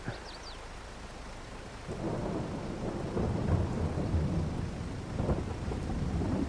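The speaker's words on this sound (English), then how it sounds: "Plenty of water, it's raining." Video game rain with a low rumble of thunder swelling underneath, a continuous rushing hiss that grows louder after the first couple of seconds.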